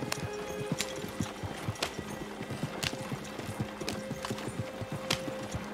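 Horse hooves clip-clopping at a regular walking gait in the video game Red Dead Redemption 2, crisp repeated hoofbeats against a quiet ambient background with occasional brief clicks.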